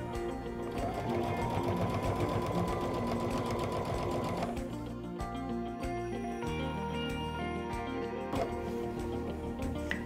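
A Baby Lock Altair sewing machine stitches through layered Halloween fabric. Its steady, rapid mechanical whir runs close and continuous, with a brief slowdown midway before it picks back up, and no voices are heard.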